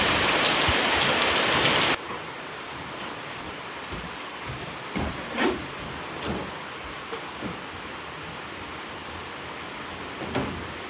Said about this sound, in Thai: เอาฝนมาให้ดูทำไมวะเนี่ย